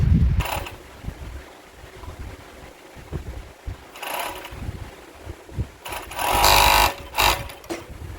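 Sewing machine stitching fabric for boxer briefs, running in several short bursts of whirring stitches separated by pauses, with the loudest and longest run near the end; quiet handling noises fill the gaps.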